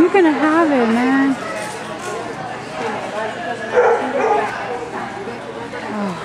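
A playful puppy yips, whimpers and gives a few small barks at close range, its high whiny cries rising and falling across the clip while people talk over it.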